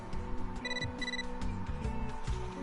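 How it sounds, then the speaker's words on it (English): A short electronic phone chime rings twice as a mail notification in the video game Catherine: Full Body, clear bright tones over a low game music bed. "You got a mail."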